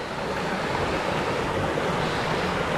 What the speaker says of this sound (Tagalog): Malakas yung tubig dito sa aming sapa, oh.